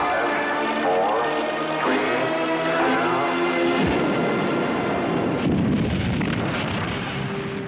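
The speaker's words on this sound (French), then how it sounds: "ce qu'est une bombe atomique" An archival nuclear bomb explosion rumbles in a deep, rolling roar that swells after tonal broadcast sounds, loud and sustained, with a voice speaking over part of it.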